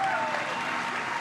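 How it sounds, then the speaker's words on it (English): Dense audience applause at an outdoor unveiling ceremony, a steady wash of many hands clapping throughout, with no speech over it. "One more round of applause for Elizabeth Solomon."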